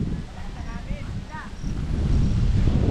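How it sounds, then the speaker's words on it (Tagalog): Strong wind buffeting the microphone at a scenic overlook, a rough low rumble that grows louder toward the end, with a few brief voices and chirps faintly in the background. "Malakas ang hangin"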